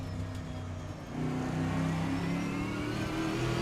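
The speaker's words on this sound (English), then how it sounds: "There's a nice little kind of pop and bang just as you go in." Trans Am race car in Assetto Corsa driving steadily on track, engine note droning and then jumping louder as it accelerates, close and continuous; the exhaust pops are not clearly separable from the engine.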